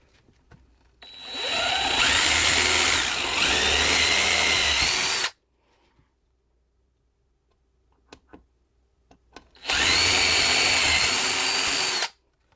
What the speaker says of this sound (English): So I'm going to drill my holes first